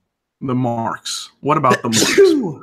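A single sneeze bursts out between stretches of close conversational talk from two people.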